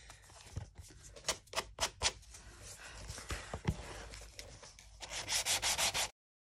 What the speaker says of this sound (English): Let's just sand that off.